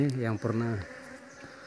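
Bees buzz near a coconut palm flower stalk in hot dry-season weather, a loud close insect drone overlaid by a man's brief spoken word at the start, then fading into a softer buzz.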